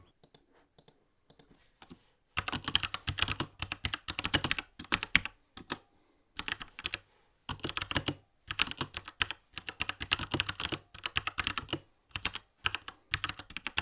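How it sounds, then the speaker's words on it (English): Typing on a Keychron K2 mechanical keyboard with red switches: steady bursts of close, crisp key clicks and clacks in quick runs, with brief pauses between them and no talking. "Here's a quick sound test to give you an idea of how the keyboard sounds"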